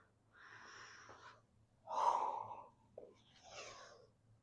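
Heavy rhythmic breaths during a dumbbell full-body workout, three drawn-out inhales and exhales at a steady pace, close and fairly quiet, with no talking.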